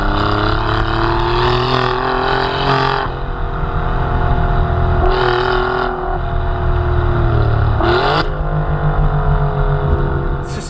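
An Alfa Romeo Giulia Quadrifoglio engine sounds loud and close while driving, revving up through repeated climbs with sharp breaks at each gearshift, a raspy and shouty tone throughout.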